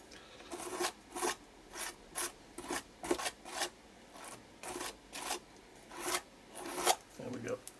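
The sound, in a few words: scraping excess medium off a stencil edge on canvas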